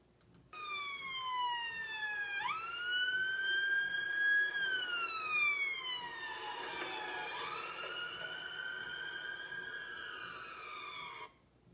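An ambulance siren wails in a clear, sustained recording, its tone sweeping up and down in long glides over several seconds, steady and prominent against faint background hum.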